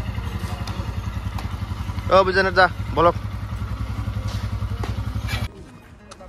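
A motorcycle engine runs with a steady low throb on a road trip through Meghalaya, one of two bikes, while voices talk briefly over it before the sound cuts off near the end.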